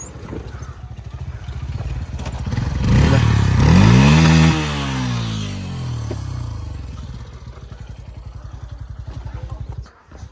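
Motorcycle, a Pulsar NS200 or RA 220F, riding a rough, broken offroad trail, with a steady engine thrum and rattling over bumps and a rising rev surge midway, close and fairly loud.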